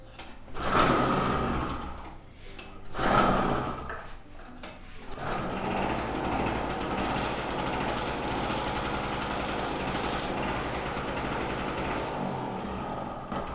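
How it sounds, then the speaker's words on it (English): A portable Tg 950 Chinese two-stroke generator being started: two loud pull-start bursts, then the small engine catches and runs at a steady, buzzy, high-revving idle up close. "we just put on the generator and the generator came on"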